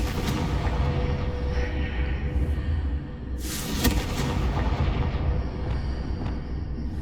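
A Confringo fire spell goes off in Hogwarts Legacy as a sudden burst. The blast sits mid-clip over continuous game ambience and rumble, with a brief crackle trailing after it.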